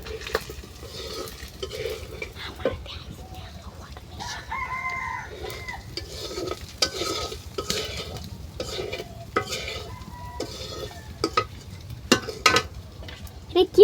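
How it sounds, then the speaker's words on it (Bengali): Chilies and coriander frying in a pan are stirred with a spatula, giving a continuous sizzle broken by scraping strokes, while a rooster crows now and then in the background. "মরিচ আর ধনিয়া নাড়া দিয়ে নি"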